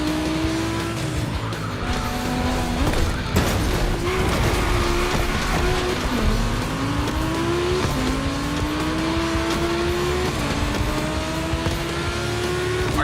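Volkswagen cars race in The Crew Motorfest video game. Loud engine drones rise in repeated gear-shift sweeps, with tire squeal and skidding across the whole stretch and no talking.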